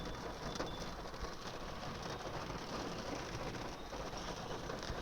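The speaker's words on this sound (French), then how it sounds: "je sais pas si vous entendez la pluie" Steady rain falls outdoors as a soft, even wash of patter that continues the whole time, with no voices.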